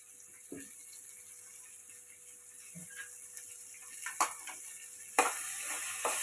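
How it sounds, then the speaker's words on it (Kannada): Capsicum rice ingredients fry in a pan with a faint, steady sizzle, broken by a few soft clinks and scrapes of stirring. "ನೀಟಾಗಿ ಫ್ರೈ ಮಾಡ್ಕೊಳ್ಬೇಕು. ಒಂದು 2 ರಿಂದ 3 ನಿಮಿಷ ತನಕ ನೀಟಾಗಿ ಫ್ರೈ ಮಾಡ್ಕೊಳ್ಳಿ."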